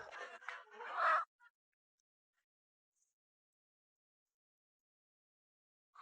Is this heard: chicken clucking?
yes